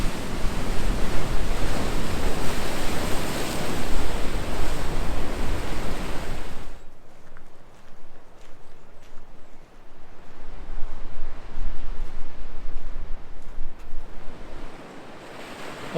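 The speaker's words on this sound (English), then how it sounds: "enjoy the ocean crashing on the rocks" Ocean surf roars against coastal rocks in winter, a loud dense wash that suddenly drops away, leaving quieter rolling swells and wind in the background.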